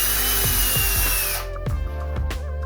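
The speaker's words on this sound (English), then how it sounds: "you're gonna come with your drill bit, 1/16" drill bit." A power drill bores a pilot hole with a 1/16 inch bit while a door stopper is installed, a loud continuous whir that cuts off midway and is followed by a few short bumps and clatters.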